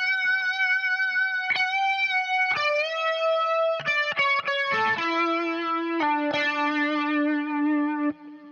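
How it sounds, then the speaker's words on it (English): A Stratocaster electric guitar runs through a distortion pedal and a Leslie simulator, playing sustained lead notes and slides with a swirling, rich tone, each note ringing clearly and alone, with no talking. "I'm playing my Strat here, and I'm actually plugged into a distortion pedal and a Leslie simulator."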